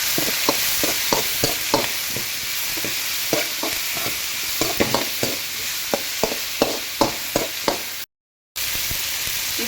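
Drumstick sambar being stirred in a pan after salt and turmeric go in, a steady sizzling bed broken by a regular run of sharp spoon scrapes and taps, close and clear with no voices.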